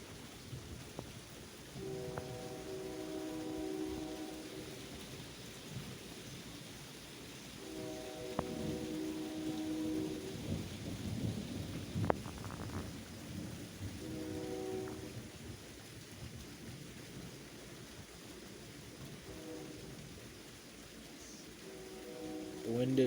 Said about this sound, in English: And so comes the rain.